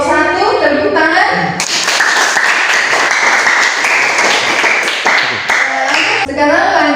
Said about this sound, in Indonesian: Ya, ini dari kelompok 1, tepuk tangan.